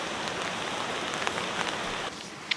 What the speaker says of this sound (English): the sound of the rain on the tarp